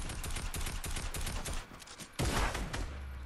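Rapid gunfire rattles through a video game shooter, a steady stream of close shots that drops briefly and then returns in a louder burst, with no one speaking.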